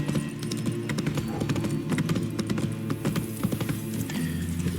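Roach the horse gallops in the video game The Witcher 3, a rapid steady run of hoof clip-clops over a low droning game background.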